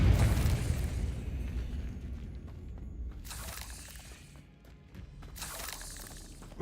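A Confringo blasting spell in a Harry Potter video game bursts with a loud shattering boom at the start, its rumble fading over several seconds while fainter crackling debris flares up twice later.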